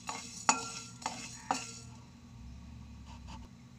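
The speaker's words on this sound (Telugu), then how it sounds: "ఇందులో నేను ధనియాలు, జీలకర్ర, యాలకులు, లవంగాలు, దాల్చిన చెక్క, అనాస్ పువ్వు వేసుకున్నానండి. వీటిని మీడియం ఫ్లేమ్లో పెట్టి బాగా వేపుకుందామండి." Whole spices (coriander, cumin, cardamom, cloves, cinnamon and star anise) dry-roasting in a pan over medium flame give three close scraping stirs and clinks, followed by a faint quiet rattle.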